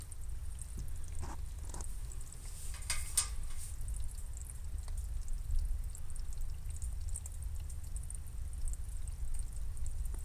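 Soft, steady rush of water trickling and gurgling as it fills a Fluval 407 aquarium canister filter on a turtle tank, quiet and continuous with a few faint clicks.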